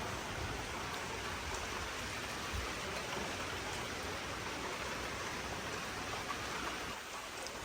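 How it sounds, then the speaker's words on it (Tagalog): Rain falls outdoors at a home where a car wash was planned. A steady, dense hiss of drops on surfaces holds evenly and fairly softly throughout, with no voices. "Naulan na naman."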